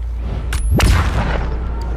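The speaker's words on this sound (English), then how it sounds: "There I go, airstrike." Airstrike blasts in the video game H1Z1: a sharp, close explosive boom with a whooshing streak just before it, over a steady low rumble that carries on to the end.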